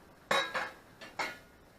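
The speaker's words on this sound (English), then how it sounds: "I have to get my hot pans out of the oven" Hot metal pizza pans clank out of an oven: four sharp clattering knocks in two quick pairs, close and fairly quiet, with no talking.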